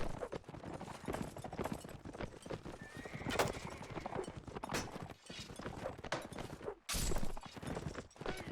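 Horse hooves clip-clop steadily in a cavalry-heavy multiplayer video game battle, with repeated loud neighs and whinnies rising over a dense, busy clash of battle noise throughout.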